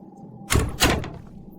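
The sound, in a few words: door being shut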